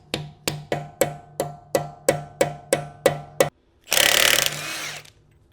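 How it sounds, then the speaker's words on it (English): Impact wrench or power ratchet working a nut loose on a car being fitted with a BMW B58 engine: about ten evenly spaced sharp hammering bursts, then a brief pause and a loud hissing whir close to the microphone. "So we're gonna remove this nut."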